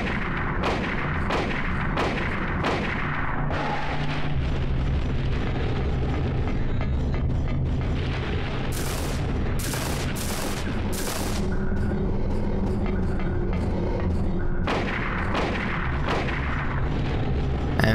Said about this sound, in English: let's get the rifle then and just shoot the hell out of her.